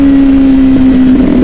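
A four-cylinder motorcycle engine roars loud and close in a sustained high drone, its pitch holding steady with slight wavers under hard running.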